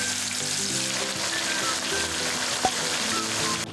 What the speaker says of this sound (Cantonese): 然後放入排骨，炸至熟透同金黃色